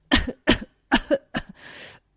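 Four sharp, harsh coughs in quick succession from a cartoon character choking on a chicken bone, close and loud, followed by a raspy breathy exhale.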